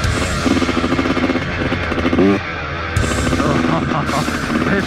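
A Yamaha YZ85 dirt bike revs hard while riding, its buzzy two-stroke engine loud and close, rising and dipping with throttle changes and a brief drop near the middle.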